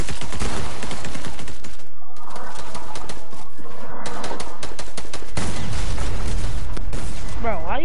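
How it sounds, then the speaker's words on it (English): Rapid gunfire in the Fortnite video game, loud bursts of automatic shots in quick succession broken by brief gaps, with a voice speaking over the shooting. "why are you shooting at me when I'm shooting a whole other person?"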